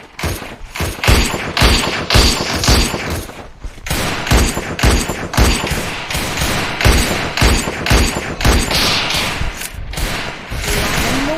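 Rapid, loud bursts of gunfire from the video game Free Fire, with dense repeated shots and thuds continuing almost without pause, punctuated by short gaps between volleys.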